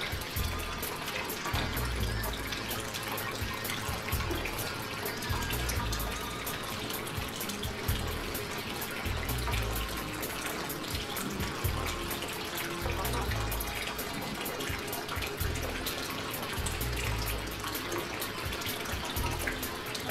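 Steady water gushing and trickling as the old-school protein skimmer of an aquarium fills, a continuous close wash of flow with low rhythmic bubbling pulses underneath, no voices.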